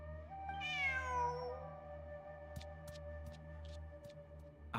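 In the video game Genshin Impact, a cat gives a single clear, rising-and-falling meow near the start over a steady low game-music hum, followed by faint ticking sounds.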